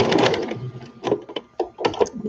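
A sewing machine stitches in several short, close bursts with brief pauses between runs, loud and unaccompanied by talk.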